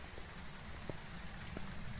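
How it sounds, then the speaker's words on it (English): Heavy rain falling in the Netherlands map of the game Phasmophobia, a steady, even wash of noise that holds for the whole stretch, broken by a couple of faint knocks, with no voices. "heavy rain is obviously built into the difficulty, in case you were confused why it's been raining so much"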